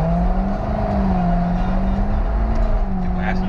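Chevrolet Corvette C7 Grand Sport with stock exhaust, its V8 running at a steady, fairly loud drone with a slight pitch swell, a voice briefly present alongside.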